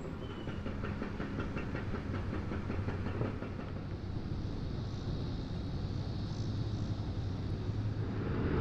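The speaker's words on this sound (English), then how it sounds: "we got a train going across the ASB bridge" A continuous low rumble of a train crossing the ASB bridge in Kansas City at a distance, with a faint rhythmic clatter of wheels that fades into a steady roar.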